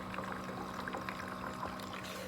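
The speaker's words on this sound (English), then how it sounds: "now the coolant is flowing like a little waterfall on the inside" Coolant trickles and gurgles inside a hydronic heater like a small waterfall, a faint continuous splashing flow over a low mechanical hum.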